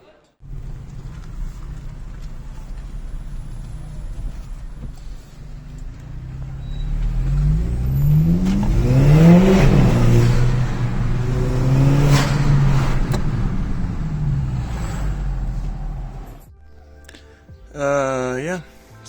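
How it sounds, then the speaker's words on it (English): A Volkswagen GTI with a new diverter valve and an aftermarket induction kit revs its engine up and down, building to a loud sustained roar in the middle and easing off toward the end. "will show you how a GTI with a good aftermarket induction kit sounds"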